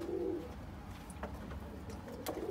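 Escaped pigeons back at their coop, a nearby soft coo opening the moment followed by faint rustling and small taps, fairly quiet and brief.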